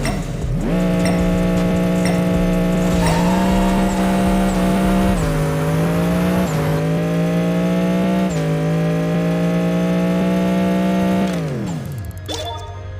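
A race car engine in the Apex Racer video game drones loudly and steadily through a half-mile run, its pitch stepping up with each gear change before cutting off near the end, with a faint tire squeal mixed in.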